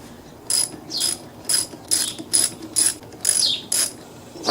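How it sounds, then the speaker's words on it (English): Quick repeated clicking of a ratchet tightening bolts on a Briggs & Stratton 21HP Platinum engine of a Craftsman YT3000 mower, about nine short close bursts in steady rhythm. "I'm just going to put all this back together and torque everything down."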